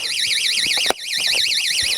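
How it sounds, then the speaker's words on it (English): An electronic alarm goes off with a loud, continuous warbling tone that rises and falls rapidly. A brief thump cuts in near the middle. "Hang on, my alarm's on."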